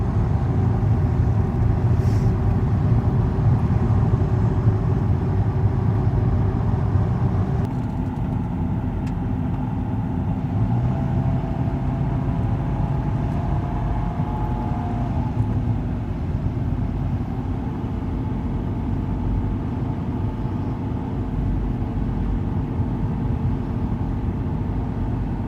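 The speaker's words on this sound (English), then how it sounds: "Just driving into Yosemite National Park right now." A car drives up through Tioga Pass into Yosemite National Park, heard from inside as a steady low engine rumble and road drone that holds for the whole stretch, with a slight shift in tone partway through.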